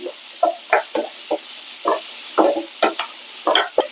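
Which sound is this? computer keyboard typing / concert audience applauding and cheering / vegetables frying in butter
vegetables frying in butter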